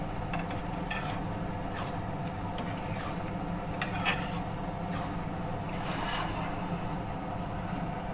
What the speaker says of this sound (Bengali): একবার নেড়ে নিচ্ছি